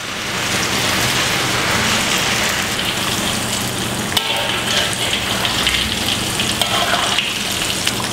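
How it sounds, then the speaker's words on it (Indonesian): Tofu pieces fry in hot oil in a home kitchen, giving a loud, continuous crackling sizzle like heavy rain that holds steady from start to finish, with no voices. "Kita goreng sampai kering ya"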